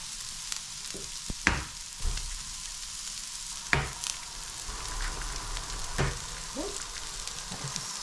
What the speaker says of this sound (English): what's cooking? Sausage, well, kielbasa, hash, and some fried eggs.